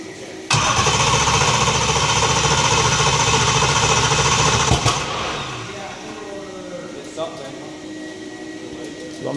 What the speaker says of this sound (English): I'm going to try to start this thing for the first time with the crank trigger and stuff, the new motor